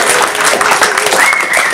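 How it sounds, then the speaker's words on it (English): Audience at a tribute event for Shelton Lea applauding the host and venue, a brief dense burst of clapping with faint voices mixed in. "Can I get a round of applause for Joe and the entire venue,"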